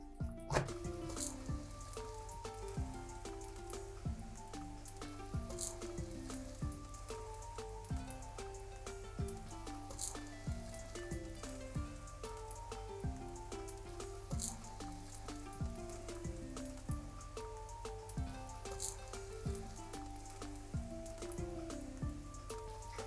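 Aloo paratha, a potato-stuffed flatbread, sizzles softly on a pan after flipping, a faint, continuous crackle and spatter with scattered pops throughout and no speech.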